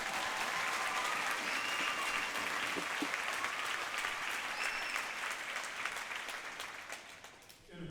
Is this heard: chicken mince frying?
no